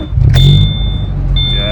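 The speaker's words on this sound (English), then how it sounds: "Let's see if we can get it started now." A car engine cranks and catches after its battery has been recharged and refitted, then settles into a steady idle under a repeating high electronic beep, with a voice briefly audible.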